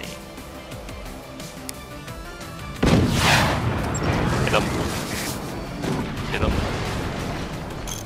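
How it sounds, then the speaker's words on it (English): Cannon fire in the video game Forts: a sudden heavy boom followed by rumbling blasts and crashing impacts, loud and close, with a voice speaking briefly over the action. "That is a cannon on the ready."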